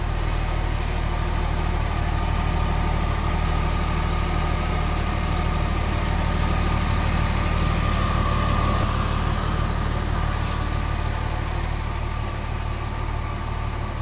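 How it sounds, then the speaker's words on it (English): Steady, quiet idle from a 2000 Porsche 911 Carrera engine fresh from an AMSOIL oil change, an even low hum throughout with no talking. "Listen to how quiet that is."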